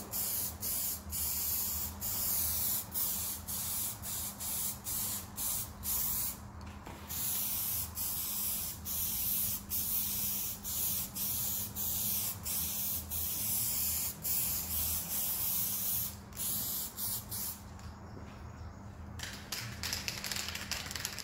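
A spray gun lays a light drop coat of paint on a Ferrari 308 GTS during a paint restoration. A close, continuous hiss is broken by short bursts and pauses, with no voices.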